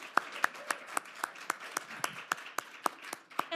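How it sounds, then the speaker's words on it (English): Audience at an academic symposium claps in a sparse, distinct rhythm, individual sharp claps spaced about every quarter second, fairly quiet and close, with no other voices over it. "would like to give them both a round of applause for the great work that they do"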